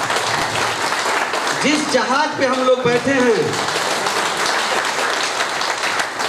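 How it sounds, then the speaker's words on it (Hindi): Applause for the CMD at a seminar in Royal Darbar, Gorakhpur, a steady crowd clapping that fills the whole stretch while someone speaks over it through a loud PA system. "एक बार सीएमडी साहब के लिए जोरदार ताली बजा लीजिए"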